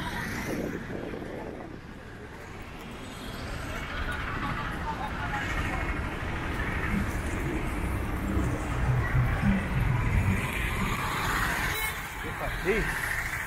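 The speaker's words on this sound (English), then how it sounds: "You can see buses, motorcycles." Buses and motorcycles move along a busy main street in Ukunda, Kenya, a continuous engine rumble with vehicles idling and passing nearby, while someone talks over the traffic.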